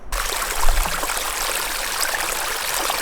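Snowmelt water runs down a steep mountain trail on the Appalachian Trail in Maine, a steady broadband rushing and trickling close by that continues without a break for the whole stretch.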